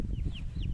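A hen in moult clucks in short, close rising calls, two or three sharp notes over a low rumble of background noise.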